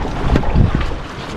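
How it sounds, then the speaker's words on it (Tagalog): An old gasoline boat engine runs on the water, its low rumble mixed with wind buffeting the microphone, a few louder surges breaking through before it settles back into a steady drone. "Sobrang luma na nitong makina na ito."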